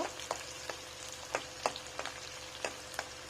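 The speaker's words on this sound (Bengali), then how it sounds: "কড়াইতে রিফাইন্ড অয়েল দিয়ে তার মধ্যে পেঁয়াজ কুচি দিয়ে দিলাম।" Chopped onions fry in refined oil in a wok for Chicken Maharani, a steady close sizzle under a low hum, punctuated by sharp clinks of stirring every third of a second or so, with no talking.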